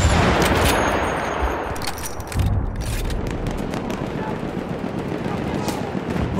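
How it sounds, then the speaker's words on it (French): Enemy machine gun in Battlefield 1 rattling in rapid sustained bursts amid booming explosions and dense battle noise, loud and continuous, with voices faintly mixed in. "Mitrailleuse ennemie, par là!"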